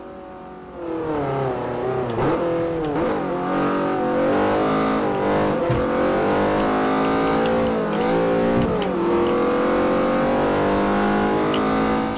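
A car engine in Forza Motosport 4 revs hard and climbs through the gears with rising, falling whines, loud and steady, with no talk.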